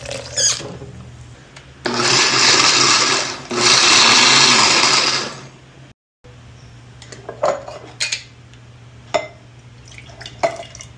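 A blender whirs loudly through passionfruit pulp and water in two bursts of a few seconds each, followed by clinks of dishes and utensils and light dripping nearby.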